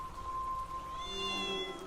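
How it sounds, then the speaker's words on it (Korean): A cat meows on a rainy monsoon night, one drawn-out, wavering cry sustained above a low background hum. "고양이 울음소리"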